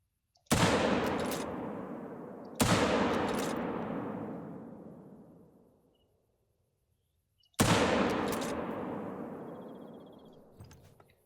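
Three loud .223 rifle shots in theHunter: Call of the Wild, each a sharp crack followed by a long rolling echo. The first two come about two seconds apart and the third follows after a pause of roughly five seconds.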